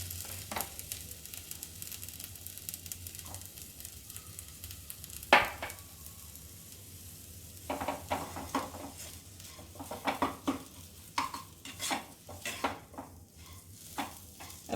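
Banana tikki mixture with peanuts is stirred in a pan with the gas off, giving intermittent scraping and clinking strokes against the metal over a faint background hiss. One sharp knock stands out, and no one speaks.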